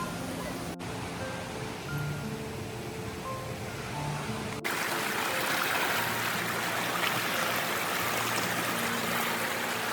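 Steady rushing stream water at the lower falls, first of a chain of seven waterfalls, a constant broadband wash that jumps noticeably louder and fuller partway through.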